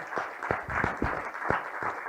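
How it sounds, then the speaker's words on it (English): An audience at a talk applauds for an author; steady, moderately distant clapping runs through the short stretch with scattered individual claps standing out. "So a round of applause for the author."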